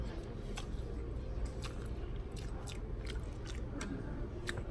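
Close, moist chewing of pho noodles at a buffet, with soft repeated squishy bites and slurps over a low background murmur of the dining room.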